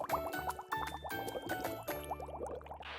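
Fizzing tablet bubbling in water beneath a layer of oil in a homemade lava lamp, a close, busy stream of popping, gurgling bubbles with liquid burbles throughout.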